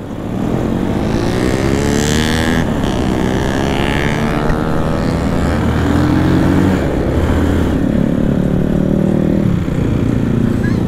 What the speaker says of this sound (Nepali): मैले चाहिँ अहिले हाम्रो मोटोमानिक पर्वत भाइको बाइक चलाएको छु